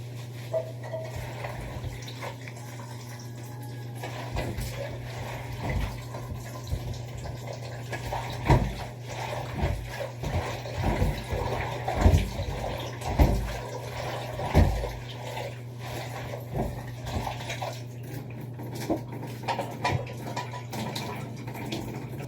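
Saluyot leaves are washed in water, with soft splashing and swishing over a steady low background hum, bursts of sloshing coming and going, close by and without speech.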